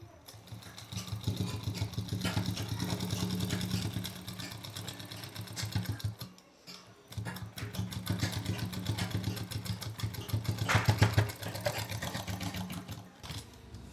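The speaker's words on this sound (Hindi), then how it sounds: "अब लगाएंगे इस साइड की सिलाई।" A sewing machine stitches a seam on a suit, running steadily and fairly quietly with a rapid mechanical whir, pausing briefly midway before resuming.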